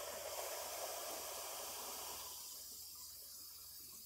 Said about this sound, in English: So I'm going to do half stock,